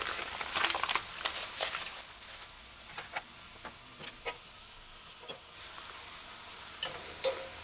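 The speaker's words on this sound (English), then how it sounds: "Fry your mashed green plantains." Mashed green plantain chips fry in hot oil in a steady, close sizzling hiss, with scattered light pops and crackles that are sharper early on and become sparser later, with no talking.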